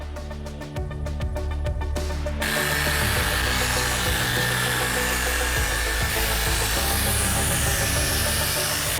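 A machine polisher with a soft pad buffs car paint, a loud continuous whirring drone that shifts slightly in pitch as it works, close and steady with no talking.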